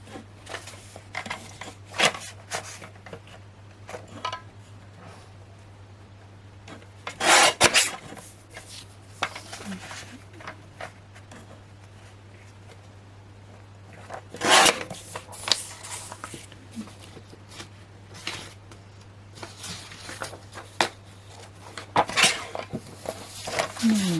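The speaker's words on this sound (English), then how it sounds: "just slightly easier with this trimmer to cut more than one piece" Paper trimmer slices through several card pieces at once during crafting, giving scattered sharp scraping and sliding bursts over a quiet steady hum, with a few louder cuts standing out and no talk.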